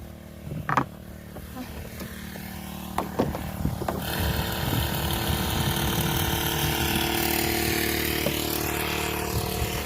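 A small engine on a motorized pesticide spray pump starts after a few knocks and then drones steadily with a buzzing mechanical whine, close by.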